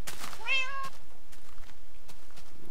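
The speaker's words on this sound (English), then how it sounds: "There, now we have all three types of cats." Short in-game cat meows from Minecraft, a few high, clear mewing calls near the start, close and fairly loud, then a quiet stretch with no talking.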